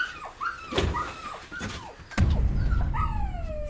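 A puppy whimpers in short, high, thin cries, several in a row, close by in a quiet airplane cabin with a low hum underneath.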